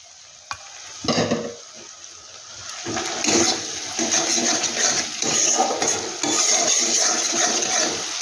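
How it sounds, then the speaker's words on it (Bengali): Fried chopped shrimp tipped into a pan of fenugreek-leaf curry, setting off a loud, steady sizzle with stirring and scraping that build after a short knock and keep going to the end. "কুচি চিংড়ি মাছ আমি ভেজে রেখেছি, সেটাকে আমি দিয়ে দিচ্ছি"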